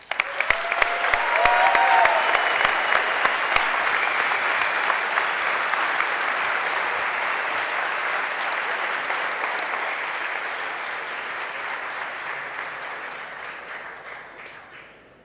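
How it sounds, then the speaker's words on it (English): Long, loud applause from a large conference crowd welcoming a speaker, sustained for several seconds before gradually tapering off. "let's welcome him with a huge round of applause"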